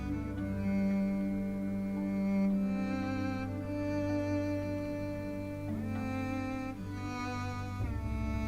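Modeled string sound from a synth demo imitating a bow scraping across a string, sustained bowed tones that swell and shift in pitch, moderately quiet and alone.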